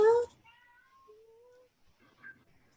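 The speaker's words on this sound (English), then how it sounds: "Is it a cat from outside?" A cat meows in a kitchen during a cookout, a short whining mew and a thin drawn-out cry, with a brief voice just before and another faint meow at the end.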